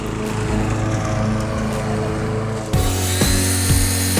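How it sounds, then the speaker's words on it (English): A lawn mower engine drones steadily in the yard, close and loud, with a harsher, shifting tone kicking in partway through as the blade load changes. "You're kind of fierce on that lawnmower."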